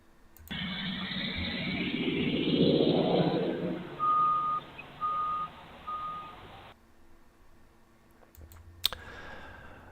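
A school bus rumbles past, its engine swelling and then fading, while three short, evenly spaced warning beeps sound midway. A sharp click follows near the end.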